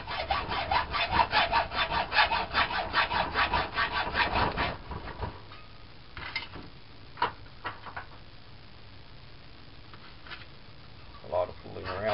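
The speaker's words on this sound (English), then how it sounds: "Really surprisingly thin metal that you have to cut through." Hand sawing through surprisingly thin metal held in a vise for a piston stop tool, a loud fast back-and-forth rasp for about five seconds, then scattered clinks and handling noises.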